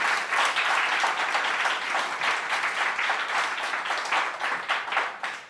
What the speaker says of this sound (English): maybe a little round of applause to welcome Anne would be appropriate